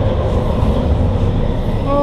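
Interior rumble of a moving passenger train in Belgium, a steady loud low drone with a faint rising squeal near the end.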